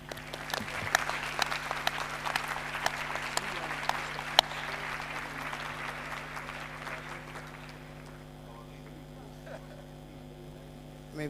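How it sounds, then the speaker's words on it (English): An audience at a conference gives a panel of speakers a round of applause: dense clapping fades out after about eight seconds, leaving a steady mains hum in the hall. "But I'd like to invite you to applaud my dream team of panelists."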